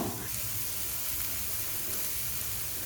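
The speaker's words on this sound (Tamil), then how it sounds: "இப்போ சேர்த்து நல்லா சாட்டேட் பண்ணிடலாம்." Finely chopped vegetables sautéing in a pan for a Pondicherry-style French omelette, a loud, continuous hissing sizzle up close with no speech.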